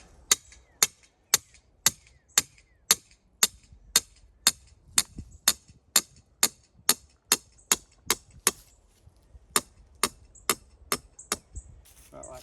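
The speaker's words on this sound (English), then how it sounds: "Got to hammer this in the ground" A snare stake is hammered into the ground for a spring pole snare, with about twenty sharp, evenly spaced strikes, close and ringing, a short gap partway through, outdoors with no talking.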